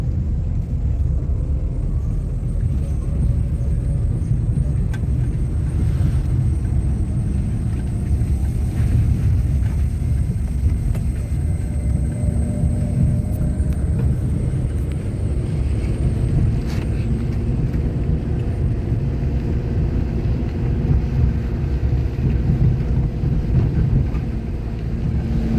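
A car on a road during a driving lesson gives a steady, close low rumble with wind buffeting throughout, continuous and unbroken, with no talk.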